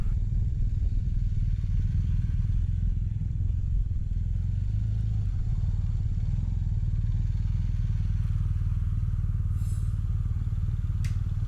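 BMW R1250GS motorcycle ridden slowly in a tight circle, a steady low engine rumble with some clatter, fairly distant and even, no speech.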